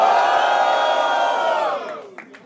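A rap battle crowd at Batalha do Coliseu roars and whoops loudly to vote for a rapper, a sustained wall of cheering that holds, then fades into scattered shouts.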